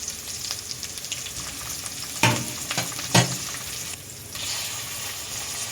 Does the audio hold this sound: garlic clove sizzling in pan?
yes